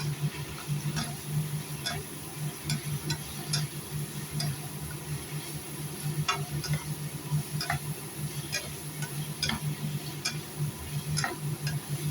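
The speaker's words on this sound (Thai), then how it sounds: "ผัดให้มันเข้าเครื่องก่อนค่ะ ถ้าผัดอย่างนี้แล้วมะเขือมันจะไม่เละจ้ะพี่น้อง" Eggplant and basil stir-fried in a pan: a steady run of light, regular scraping and clinking strokes over a soft sizzle, close by and moderately loud, with no talking.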